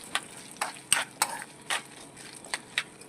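Roasted chana dal and green chillies being fried in a kadai for dosa chutney, with a few sharp stirring scrapes and clinks spaced irregularly over a faint, quiet sizzle.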